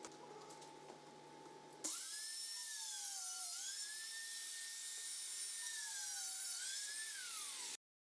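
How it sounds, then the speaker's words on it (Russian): A dowel boring machine drills a hole angled at 14 degrees into fireplace portal parts, starting with a sudden loud, steady high-pitched whine that holds with slight pitch shifts for about six seconds, then stops abruptly. "На присадочнике также устанавливаем угол 14 градусов и сверлим отверстие."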